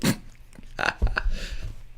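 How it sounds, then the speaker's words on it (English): A loud, throaty burp after drinking Red Bull, one drawn-out eruction near the middle followed by a lower rumbling tail, close to the microphone with no speech over it. "That was a rock star Red Bull burp."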